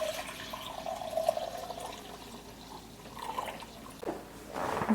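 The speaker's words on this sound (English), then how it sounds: "and then 2 cups of my spring water" Spring water is poured from a container into a vessel, giving a steady liquid trickle and splash that fades and then returns more strongly near the end, with no talking.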